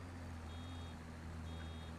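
A faint, steady series of reversing beeps from a farm vehicle in Farming Simulator 25, sounding over a low engine hum with no talking.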